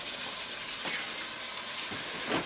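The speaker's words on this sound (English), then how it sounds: "Put a little wine in and let it cook off." Wine poured into a pot of simmering pink soup, a steady soft gushing hiss with faint bubbling and sizzle, continuous and close throughout.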